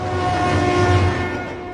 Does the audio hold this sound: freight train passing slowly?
yes